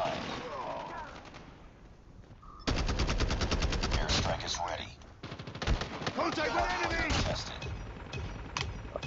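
Rapid automatic bursts from a DR-H assault rifle in COD Mobile, loud and close, firing in long strings after a quieter opening with game sounds.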